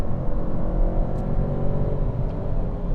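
A 2021 Audi A1 Sportback 95 hp with an automatic gearbox pulls away in third gear, its engine a steady, low rumble heard from inside the cabin, smooth and continuous with no voices.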